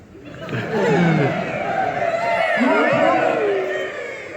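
Convention crowd at Anthrocon 2016 roaring and cheering in a large hall, a loud, steady wash of many voices and chatter filling the space with swelling peaks.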